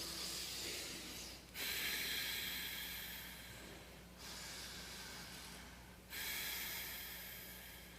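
Deep breathing in and out, a continuous airy rush close to the ear, broken by brief pauses into three long breath cycles, with no talk.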